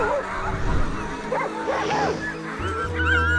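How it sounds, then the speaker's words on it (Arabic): Many sled dogs bark, yip and whine at a dog race gathering in Alaska, a dense, excited chorus of overlapping calls from several animals nearby, with some voices mixed in. "نحن في أغرب جدول في هذه الرحلة، نحن في تجمع سباق كلاب."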